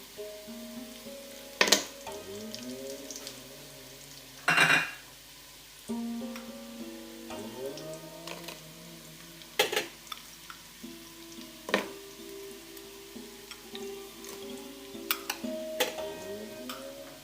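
Onions browning with cinnamon and cloves for homemade chicken biryani, frying in a pan with scattered ticks, scrapes and clinks of stirring over a low steady sizzle, close and fairly quiet.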